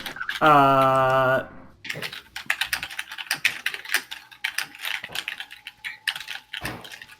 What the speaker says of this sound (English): You hear Alex typing